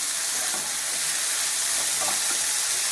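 Chopped yam and beans fry in a pan and are gently stirred, giving a dense, continuous sizzle and hiss that stays loud and even throughout.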